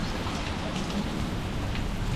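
Steady rain falls over a canal during a fishing outing, a dense even hiss of drops on the water and nearby surfaces, continuous and fairly close with no talk.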